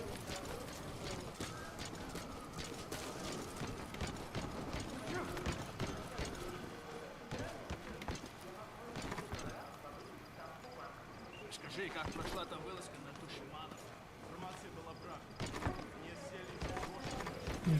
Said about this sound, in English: You're hearing footsteps but can't see anyone.